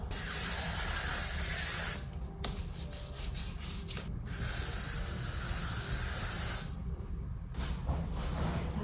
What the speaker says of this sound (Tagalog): Ego Sun na Adult Sensitive Sunscreen Spray. SPF 50 daw.